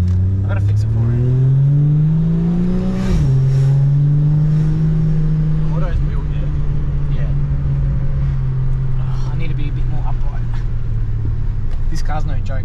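A 1000hp FG Falcon engine accelerates hard and revs loudly from inside the cabin, with a rising drone, a brief shift at about three seconds, then sustained power, while people talk over it.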